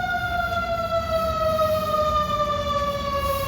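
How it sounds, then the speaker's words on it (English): Emergency vehicle sirens wail steadily with long sustained tones over low rumbling traffic noise, fairly loud and continuous. "Excuse the sirens. There's always a lot of sirens where I'm at right now."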